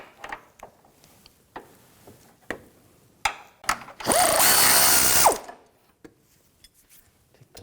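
An 18mm socket works loose a bolt on the front forward lower control arm of a 2006-2010 BMW 550i, giving scattered sharp metallic clicks and a loud, sustained rasping burst of about a second midway.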